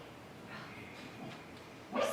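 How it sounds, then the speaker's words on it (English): Dog barking, a single sharp bark at the end after a stretch of quiet room noise. "I swear that bark goes right through me."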